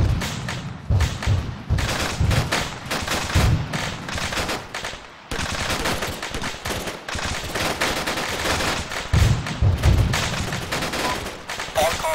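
Gunfire crackles through a combat battle in the video game Arma 3, with dense machine-gun bursts and fusillades of rifle shots, some heavy thumps, and brief pauses, loud and continuous across the scene.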